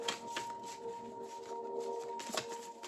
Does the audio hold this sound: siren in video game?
no